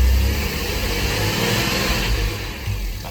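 Engine of a Porsche Boxster 986 revs around 2,000 RPM during a fuel pressure test, a loud, close mid-pitched drone that swells and dips slightly, with no voices over it.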